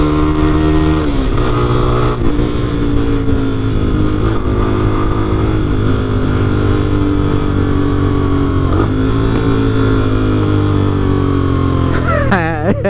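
A loud, throaty exhaust on a Fazer 250 cc motorcycle with a Fortuna sport exhaust, idling and revving steadily up close, with a sharp blip of throttle near the end.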